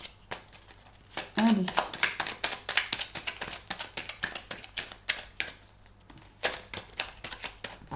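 Deck of cards being shuffled, a quick rapid riffle of crisp flicks that comes in waves, close and clear, with a brief spoken word in the middle.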